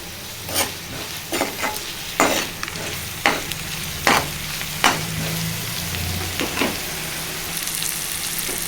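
Gongura curry sizzling in a pan over a medium gas flame, a constant frying hiss broken by repeated scraping stirs at irregular intervals, close and alone.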